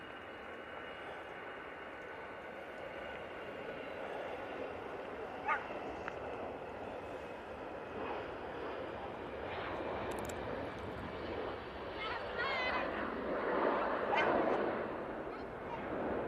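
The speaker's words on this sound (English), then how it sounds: "And that EasyJet is off to Alicante using the A319." An EasyJet Airbus A319 takes off from Manchester Airport, bound for Alicante, its distant engine roar holding steady and faint before swelling gradually toward the end.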